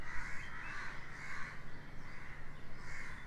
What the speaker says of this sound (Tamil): காக்கா வேற கத்துது கொஞ்சம்